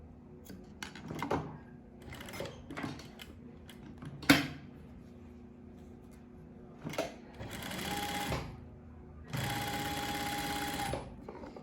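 A sewing machine stitches a cargo pocket in short bursts of rapid mechanical whirring, with pauses and light handling clicks between runs, close and clear.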